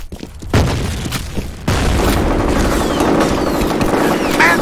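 In the shooter FEAR, a grenade goes off with a heavy boom amid loud, dense combat noise, with crackling gunfire and debris filling the rest of the moment.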